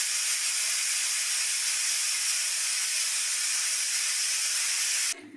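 A pressure cooker vents steam in one loud, continuous hiss for about five seconds, then cuts off abruptly.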